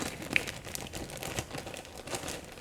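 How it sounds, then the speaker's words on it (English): A plastic bag holding a Rubik's cube puzzle rustles and crinkles close by in a quiet room, a steady run of small crackles with no talking. "I just have it in a plastic bag."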